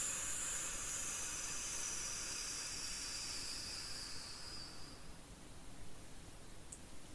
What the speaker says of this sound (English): I found if I make a noise with my mouth as I breathe out